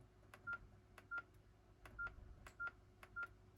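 A keypad mobile phone set to French beeps as its buttons are pressed, giving five short, clear tones spaced irregularly among softer key clicks, close and quiet.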